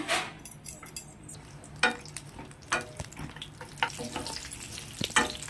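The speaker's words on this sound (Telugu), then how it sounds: "ఆయిల్ హీట్ అయిన తర్వాత కాజు వేసుకోవాలి ఫ్రై" Cashews fry in about six tablespoons of hot oil with a soft, crackling sizzle, and a spoon scrapes the pan now and then in short, uneven bursts, close and quiet with no voices.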